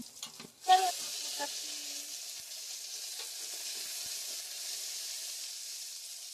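Peppercorns and dried red chillies fry in hot oil for snake gourd kootu, opening with a sharp burst of crackling, then settling into a steady soft hiss that holds evenly to the end.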